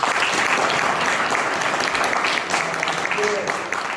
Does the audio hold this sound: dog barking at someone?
no